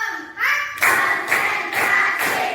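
Schoolchildren in a classroom play a counting clap game, bursts of group clapping falling in a steady beat between chanted voices, loud and close.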